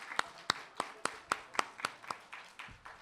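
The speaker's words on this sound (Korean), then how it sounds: "감사의 표현을 박수로 던집시다" Sharp hand claps ring out at a steady, even pace, about eight in three seconds, fairly close and alone, as the audience at a Thursday theology lecture at Hanshin University's graduate school thanks the lecturing professor.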